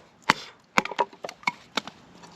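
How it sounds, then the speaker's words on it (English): A knife batoning wood into small pieces for a fire: a series of sharp, close wooden knocks and splitting cracks, irregularly spaced, with a couple of louder strikes and no talk. "batoning wood down to small little pieces for fire"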